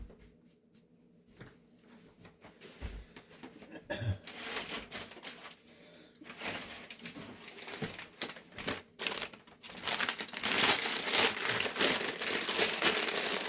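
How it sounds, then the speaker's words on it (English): Paper being crumpled and pushed into a worm bin, with dense, irregular crinkling and rustling that swells and fades in bursts, growing louder and busier toward the end. "And we're going to put more paper in here."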